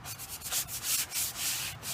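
Rhythmic rasping strokes of a sanding block rubbed over painted furniture with a chalky-type finish, close and steady, repeating back and forth without pause and with no voices.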